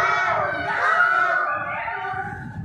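A group of children imitate a crow's caw together in a classroom, making loud, overlapping vocal calls with a crowd-like murmur underneath.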